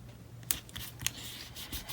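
Scissors snipping a sheet of transparent paper at a desk while setting up a planner, two crisp sharp cuts about half a second apart followed by soft rustling of the sheet, quiet and close with no talk.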